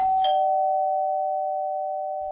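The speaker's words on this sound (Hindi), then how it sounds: "घर की डोरबेल बजी" A single doorbell chime rings out clearly, a bright strike followed by a long sustained tone that slowly fades, with no other sounds around it.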